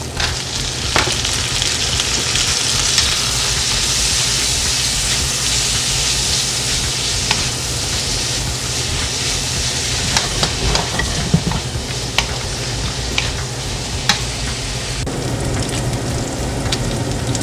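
Cabbage and carrots stir-fry for yakisoba in a hot pan, a loud, continuous close sizzle with crackling pops and scraping stirs that run throughout with no talking.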